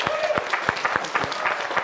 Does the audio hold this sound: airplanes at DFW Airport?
no